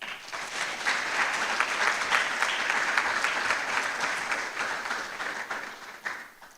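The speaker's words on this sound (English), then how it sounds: "let's give a round of applause to the Academy" A public-forum audience applauds at length, a full and sustained wash of clapping that holds steady for several seconds before fading.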